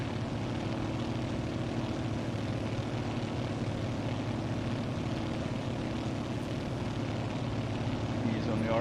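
Grumman Goose propeller plane droning steadily in Microsoft Flight Simulator, a continuous near engine hum with propeller buzz holding level throughout the flight near Coronado Island, with a faint voice under it.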